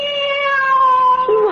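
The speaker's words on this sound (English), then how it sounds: "Oh, cat. I'm so glad to see you." A cat meows in a radio drama, a long drawn-out call with a gently falling pitch and then a brief higher rise at the end, clear and close, with no voices over it.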